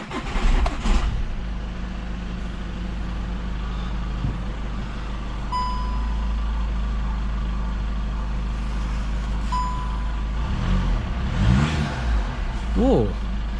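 A 2016 Skoda Octavia with engine issues starts up and settles into a steady idle, heard close inside the car alongside faint electronic beeps and brief noises.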